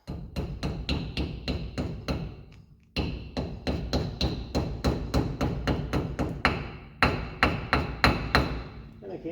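Rapid hammer blows pound on a bicycle disc brake, close and loud, with dense metallic thuds in quick bursts. Two brief pauses break up the hammering, and nobody speaks.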